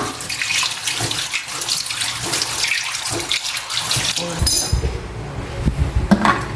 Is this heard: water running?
yes